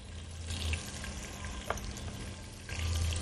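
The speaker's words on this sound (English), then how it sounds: "My meat is in, sizzling away already." Meat sizzles quietly in a pot, a soft continuous hiss with faint crackles and a low hum underneath.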